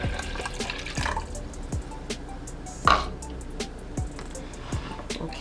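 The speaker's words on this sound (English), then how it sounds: "we're going to start off with adding 1 cup of water" A cup of water is poured into a cooking pot in a home kitchen, giving a few brief splashes and drips with light knocks and clinks nearby, close and fairly quiet, with no talking.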